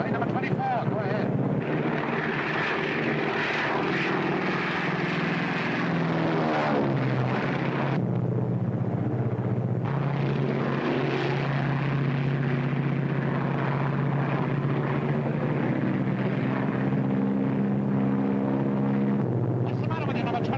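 A WW2-era propeller airplane engine drones steadily and loudly through the whole stretch, its pitch shifting slightly, with a voice talking over the engine noise partway through.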